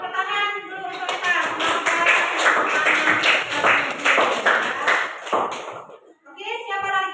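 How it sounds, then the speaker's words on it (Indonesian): A school class clapping hands during a guidance lesson, close and fairly loud. Scattered claps build into a burst, then thin out, with children's voices mixed in. "tepuk tangan dulu untuk kita"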